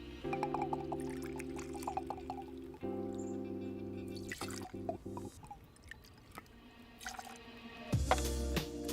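Bourbon poured close up into a measure or shaker for a whiskey sour, with quiet liquid trickles, drips and glass clinks in short bursts separated by pauses.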